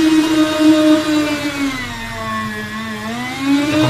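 An electric meat slicer whose blade has just been sharpened with a file is switched on. Its motor makes a close, loud, steady whirring hum whose pitch drifts slightly down and back up as it runs.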